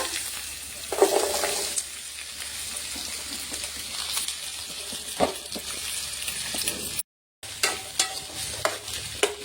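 Ivy gourd pieces fry in oil for a chutney, a continuous close sizzle broken by sharp spatula clicks and stirring, with a brief silent gap near the end.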